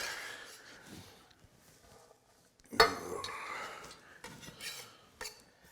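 Chopped parsley tossed into a camping pot with oil, a sharp metallic clatter and scrape followed by stirring and utensil knocks against the pot, close by with no talk.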